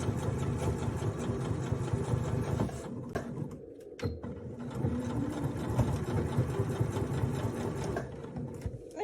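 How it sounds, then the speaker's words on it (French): A sewing machine stitches a fabric pouch at reduced speed, a continuous close-up whirring hum with a brief dip partway through before it carries on. "Comme ça, on peut venir coudre au plus proche. Alors, je règle ma vitesse un peu moins vite."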